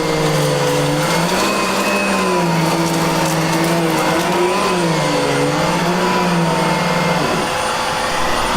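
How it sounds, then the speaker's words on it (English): A Simplicity or Riccar tandem-motor vacuum cleaner, one motor for suction and one for the roller brush, runs loudly and steadily, its motor whine rising and dipping in pitch as it moves, then settling near the end. "The vacuum cleaner actually has one vacuum cleaner for suction and another vacuum cleaner for the roller brush."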